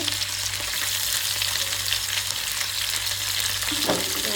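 Onions sizzle in hot oil in a pan while a Nepali chicken curry is prepared, a dense, steady frying hiss up close with light stirring and no talking.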